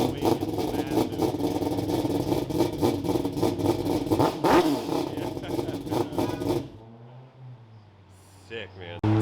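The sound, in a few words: race car engine revving during dyno pull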